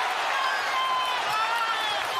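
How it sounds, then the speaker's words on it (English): Basketball arena crowd at an NBA playoff game, a dense, steady roar of cheering and applause filling the space, loud and sustained with a commentator's voice mixed in. "The crowd has come alive."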